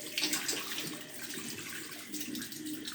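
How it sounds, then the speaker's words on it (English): Tap water runs into a sink as someone rinses their face, a steady close splashing rush with uneven surges from hands cupping and spilling the stream. "let me rinse my face"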